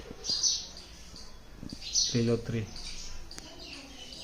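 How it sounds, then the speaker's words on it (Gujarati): Sparrows chirping outdoors in a Gujarat village, a few short bright chirps scattered across the clip, with a voice talking nearby. "ચકલા."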